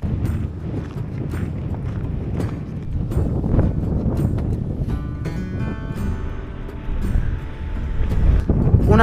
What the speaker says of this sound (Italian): il vento finalmente è diminuito un po'